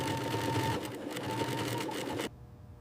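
An industrial sewing machine stitching a kangaroo leather sneaker upper in a shoe factory, a loud close rapid whirring rattle that runs steadily, then stops abruptly near the end, leaving quiet.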